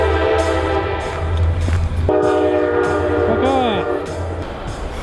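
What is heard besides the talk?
train passing by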